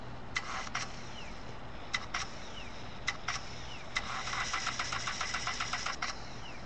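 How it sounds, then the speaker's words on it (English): Failed activation effect from a Back to the Future Flux Capacitor app: a steady electronic hum with repeated sharp clicking pulses that bunch into a rapid stuttering burst near the end, then cut off. "you'll get the sound of the Flux Capacitor trying to activate, but it won't work"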